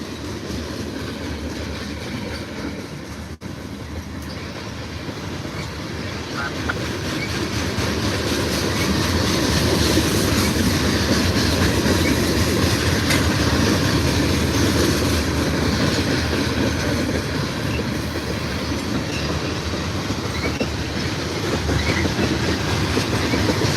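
BNSF freight train led by an SD40-2 locomotive passing near the station in Ottumwa, Iowa: a loud, steady rumble and roar of rail cars that swells and holds, with rhythmic wheel clatter and some squeal, and no talking.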